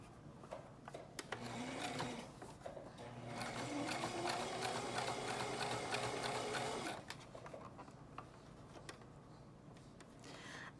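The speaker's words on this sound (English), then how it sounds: "my sewing machine kind of got stuck" Sewing machine stitching a rolled hem on a fabric mask, a fast close mechanical whirring hum running for several seconds with clicks before and after, then stopping as the machine stalls.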